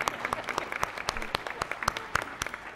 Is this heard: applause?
yes